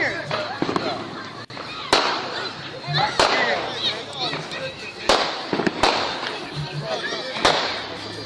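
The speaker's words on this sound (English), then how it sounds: "Kids should not be with fireworks." Fireworks and firecrackers go off outdoors in a string of sharp, irregular bangs and crackles, some close and loud, with voices in the background.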